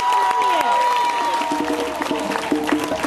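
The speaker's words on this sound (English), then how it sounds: "Everybody give them a round of applause." Audience applause at a poetry tribute event, a steady wash of clapping with some cheering throughout, loud and close, mixed with tonal sounds and voices in the room.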